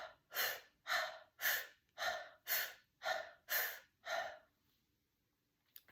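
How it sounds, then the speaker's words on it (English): Rapid deep inhales of a rhythmic breathing exercise, eight strong, evenly spaced breaths about half a second apart, close and clear, followed by quiet. "It's a rapid breath of deep inhale and drop the exhale."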